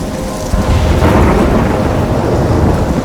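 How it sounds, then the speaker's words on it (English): A thunderstorm in the video game Life Is Strange rumbles with loud, close thunder over a steady wash of heavy rain throughout, with no voices. "I'm trapped in a storm?"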